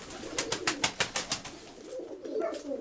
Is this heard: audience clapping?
no